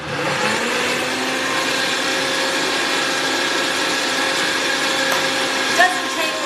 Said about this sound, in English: I'm gonna put it on the blender so it'll make a little bit of a noise here.